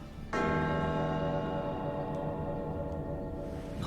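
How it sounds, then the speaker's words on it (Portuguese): A single bell is struck once and rings out with a long, steady, slowly fading tone, heard alone and fairly close. "som do sino"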